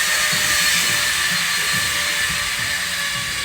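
Steady, loud high-pitched whine of a power tool cutting down bathroom framework on a Barbados beach house build site, running continuously throughout with a faint low rumble beneath.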